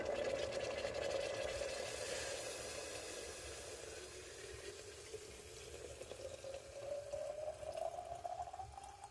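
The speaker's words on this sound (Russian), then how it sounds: "Вот согрелся чайник, наливаю." Hot water poured from a freshly heated kettle into a cup, a faint continuous trickle whose pitch gradually rises as the vessel fills, heard quietly and close with no talking.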